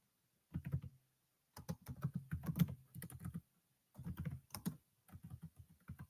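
Quiet bursts of typing on a computer keyboard, clicking keystrokes in four short runs separated by silent pauses, close and alone.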